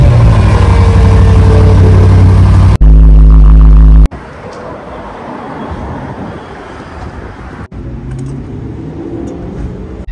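A 600 hp BMW M5 setting off on a drive, its engine a loud, deep rumble at first, then a steadier, quieter hum of cruising with road noise, with no talking.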